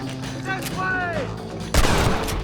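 A single loud gunshot bursts out in a Red Dead Redemption firefight, following a stretch of tonal game sound and voices.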